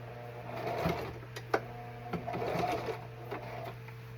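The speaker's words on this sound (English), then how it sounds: "So then we top stitch." A sewing machine top-stitches black striped pants, whirring in short bursts with quick mechanical clatter and a few sharp clicks between runs, close up in a quiet room with a constant low hum underneath.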